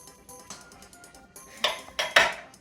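A pan clatters in a home kitchen, several sharp metallic clanks near the end after quiet shuffling handling noises.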